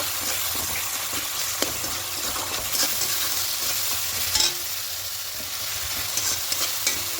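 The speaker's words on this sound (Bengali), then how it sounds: "লবণটা দিলে খুব তাড়াতাড়ি পেঁয়াজ আর টমেটো নরম হয়ে যাবে তার জন্য এই দিয়ে লবণটা দিয়ে দিলাম এবার দিয়ে খুব ভালো করে মিশিয়ে নেব" Onion and tomato with salt are stirred in a hot frying pan, a continuous sizzle with a spatula scraping and clicking against the pan at close range, loud and steady, with no voices.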